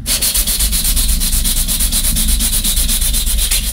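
Rapid, rhythmic scratchy rasping of a sanding disc distressing craft paper, loud and close, steady strokes throughout with no voices.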